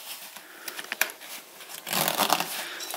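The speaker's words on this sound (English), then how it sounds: "So it kind of all just zips into place." A zipper is drawn along a pram cover to fasten it onto a Cosatto Giggle Mix pram, heard as close, quiet scratchy pulls and small clicks, louder in a denser burst toward the end.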